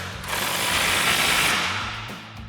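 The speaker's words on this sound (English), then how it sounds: "we'll take our 24mm socket and tighten that down" A ratchet with a 24mm socket tightens the cam bolt on a front lower control arm of a RAM 1500. It gives a continuous rapid clicking whir that swells and fades over a couple of seconds, close and alone.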